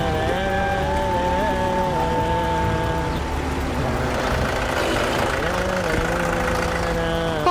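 A Mahindra tractor engine runs with a steady mid-pitched drone and a shifting tone, close and loud throughout, with faint voices mixed in beneath.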